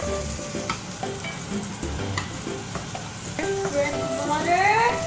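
Butter sizzles in a frying pan for pancakes, a steady hiss with clinks and scrapes of a utensil throughout and some faint voices in the background.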